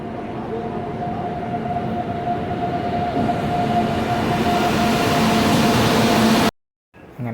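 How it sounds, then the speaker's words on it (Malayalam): A train arriving at a Mumbai station at night rumbles steadily with a sustained hum and rattling, loud and close, before cutting out abruptly near the end. "അവസാനം ട്രെയിൻ വന്നു"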